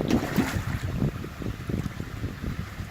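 Outdoor wind beside a koi pond, gusty rumbling buffets hitting the microphone in uneven low bursts, steady and close throughout with no talking.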